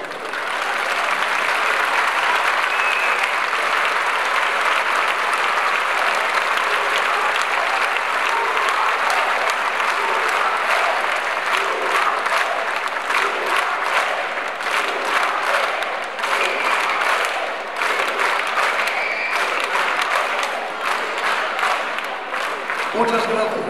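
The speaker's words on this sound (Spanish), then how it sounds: "Yo quisiera pedirles un aplauso para ellos." Audience at a rally in Tarragona gives long, loud sustained applause, a dense wall of clapping mixed with crowd noise and faint cheers lasting over twenty seconds, with a voice briefly heard near the end.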